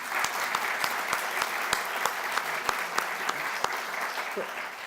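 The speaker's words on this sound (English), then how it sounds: "Perhaps another round of applause is appropriate." A steady round of applause from an audience at an alumni event after a presentation, continuous clapping at moderate volume heard from a short distance.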